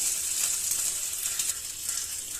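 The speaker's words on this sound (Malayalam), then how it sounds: "നമ്മുടെ ഈ താളിച്ചത് നമ്മുടെ ചക്കരിശ്ശേരിയിലേക്ക് ഒഴിച്ചു കൊടുക്കാം" Hot tempering poured into a jackfruit erissery curry sizzles with a steady bright hiss that stays even from start to end, close and moderately loud, no talking.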